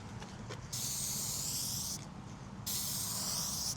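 Two bursts of aerosol spray as Next Gen Headlight Solutions clear coat is applied to a 2018 Lincoln MKC headlight, each a steady close hiss lasting about a second, separated by a short pause, over quiet room noise.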